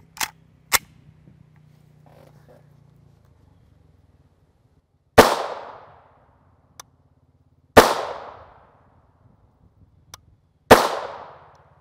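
Three sharp, loud reports from 5.7x28mm Fiocchi 35gr NTX Hyperformance rounds fired in a gas-driven, dual-piston firearm that takes FN 5.7 magazines, each shot ringing out with a decaying echo a few seconds apart, after a couple of fainter clicks.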